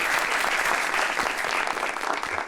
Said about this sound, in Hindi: तो आंटी के लिए भी तालियां